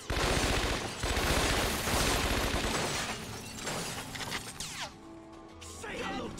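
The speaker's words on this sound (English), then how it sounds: "Please stop shooting!" Heavy gunfire from the crime video game Scarface: The World Is Yours, loud dense bursts of rapid shots filling the first half, then thinning into scattered impacts and clatter with a voice speaking over the action.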